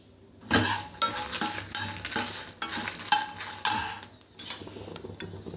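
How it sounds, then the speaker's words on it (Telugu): A spoon repeatedly scrapes and stirs ingredients dry-roasting in a pan for a spice powder, with rhythmic metallic clinks and rustles about twice a second, close and clear. "వీటిని కూడాను దోరగా వేపుకుందామండి"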